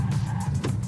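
Tires of a 2023 Ford Escape plug-in hybrid squeal and scrub during an obstacle-avoidance manoeuvre at 90 km/h, a loud sustained skid over road and engine rumble.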